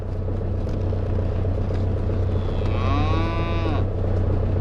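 Weaned calves and cows in a barn give a long, drawn-out moo over a steady low rumble of farm machinery, with fainter lowing around it.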